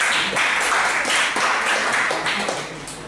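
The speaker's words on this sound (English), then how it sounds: "Please give a big round of applause." Steady round of applause from the audience at a Toastmasters club meeting, a dense, even wash of many hands clapping together for a few seconds with no one talking over it.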